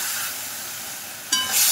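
Homemade lentil bori with turmeric powder and mustard paste sizzling in hot oil, a soft steady hiss that jumps to a louder, brighter spitting crackle near the end.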